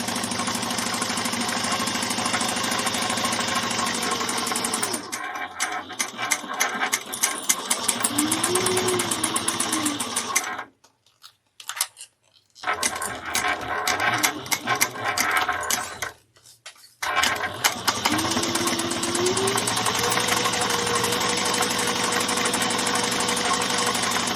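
Sewing machine stitching a handbag seam, running in long steady motor-driven bursts with two brief pauses of silence partway through, close and loud, with no talking.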